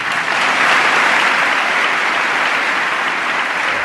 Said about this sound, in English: Applause there for the pontiff.